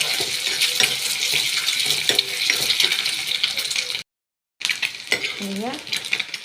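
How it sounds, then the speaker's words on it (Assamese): Chopped egg fries in a hot wok with a loud, steady sizzle and crackle. Stirring scrapes run through it, the sound cuts out briefly, then the frying resumes with a short voice in the background. "কণী যে কাটি লৈছিলোঁ সেয়া ভাজিম এতিয়া।"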